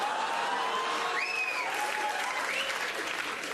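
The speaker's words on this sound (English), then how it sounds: "That was a round of applause from the French-Canadian women that will do fucking everything." Applause from a comedy show audience at a Jimmy Carr stand-up performance, a sustained, even wash of many hands clapping that fills the room throughout, with a faint tonal whistle drifting over it.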